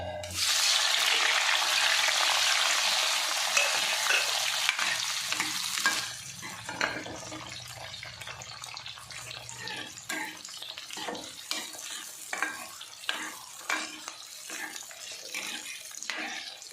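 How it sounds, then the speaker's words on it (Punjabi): Masala for whole okra is shallow fried in oil, beginning with a loud, hissing burst of sizzle that settles after a few seconds into a quieter, crackling fry with repeated scrapes of stirring. "ਹੁਣ ਜਿਹੜਾ ਅਸੀਂ ਭਿੰਡੀਆਂ ਵਾਸਤੇ ਮਸਾਲਾ ਬਣਾਉਣਾ ਹੈ ਇਹਨੂੰ ਵੀ ਅਸੀਂ ਸ਼ੈਲੋ ਫਰਾਈ ਕਰਾਂਗੇ"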